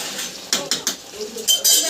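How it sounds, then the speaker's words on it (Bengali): A metal spatula clinks and scrapes in a pan several times while crab brains are stirred, with sharp close knocks in an irregular rhythm and faint sizzling between them. "একটু নাড়াচাড়া দিয়ে নেব।"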